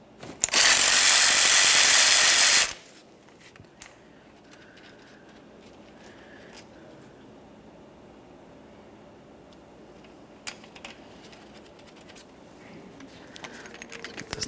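A 13mm tool loosening a brake caliper slider mounting bolt on a 2004-2008 Ford F-150, a loud harsh burst of power tool rattle for about two seconds, then quiet scattered metallic clicks and clinks.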